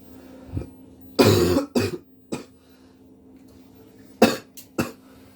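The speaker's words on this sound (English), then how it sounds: "Forgive my coughing" A run of harsh coughs: a loud burst, a couple more shortly after, then another cluster of coughs later, with quiet background between.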